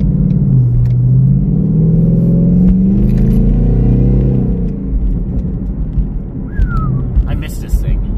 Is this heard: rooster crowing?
no